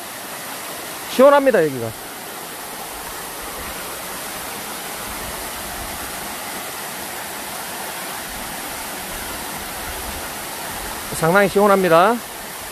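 Steady broadband roar of a waterfall filling the whole recording, cool spray in the air just before sunset, with someone speaking briefly near the start and again near the end over the constant rushing water.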